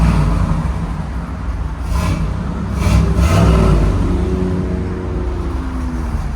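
A 1986 Pontiac Trans Am with a 5.7L V8, headers and a Flowmaster 80 Series exhaust rumbles deeply at close range, its note rising and falling in a couple of throttle blips over a steady idle.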